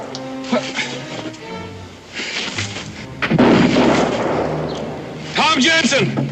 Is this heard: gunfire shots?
yes